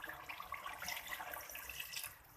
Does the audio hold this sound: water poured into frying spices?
yes